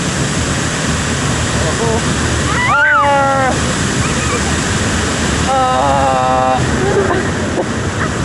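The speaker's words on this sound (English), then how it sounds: "Two waterfalls." Heavy water thunders off two waterfalls on a rapids boat ride at Efteling theme park, a loud, constant roar and splash, with riders shouting and crying out over it.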